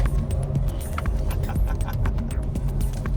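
A 2021 Polestar 2 electric car driven hard, giving a steady loud road rumble with low throbbing and busy tyre and wind noise, close and continuous without pause.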